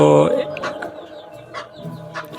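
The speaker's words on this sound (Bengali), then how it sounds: "আমার দেশি মুরগিগুলো আমি খরগোশের ঘরে রেখেছি" Native hens kept in a rabbit hutch give short, soft clucks in a close, quiet yard, a few scattered calls after a brief louder burst at the start.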